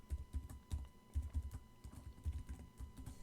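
A password is typed on a computer keyboard in a steady run of soft, close keystroke clicks with brief pauses, no talking.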